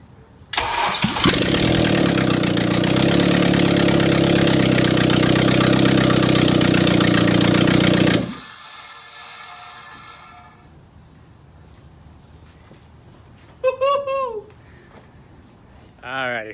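Honda K24 engine cranking and catching on its first start, roaring loudly and steadily for several seconds before cutting off, followed by quieter background and brief voices.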